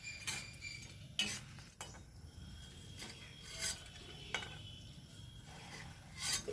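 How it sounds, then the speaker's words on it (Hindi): Edible gum roasting in a pan over a low flame, stirred constantly with a spoon; soft scraping and rasping strokes recur with occasional louder scrapes, close and steady, with no voices. "धीमी ही आंच पे गोंद को भूनना चाहिए और लगातार चलाते रहना भी है।"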